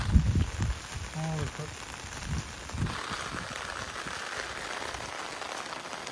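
Heavy rain patters steadily on a surface, a dense even hiss throughout as a street floods, with a few voices and a brief tone early on before the rain continues alone.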